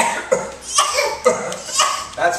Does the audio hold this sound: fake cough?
yes